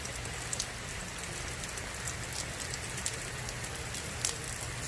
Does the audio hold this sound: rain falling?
yes